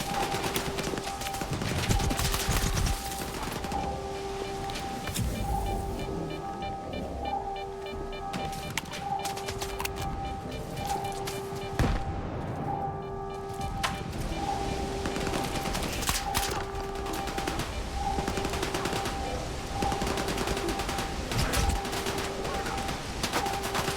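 Near-constant gunfire in the video game S.T.A.L.K.E.R. 2: Heart of Chornobyl, rapid automatic bursts and loud single shots running throughout over layered game ambience, with occasional voices underneath.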